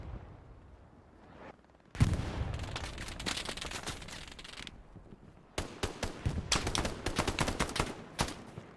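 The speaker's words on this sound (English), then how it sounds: "It's a pistol shoot-off." Pistols trade fire in a multiplayer shooter match, with sharp close-range shots arriving in quick irregular bursts over several seconds, loud and cracking, broken by brief pauses.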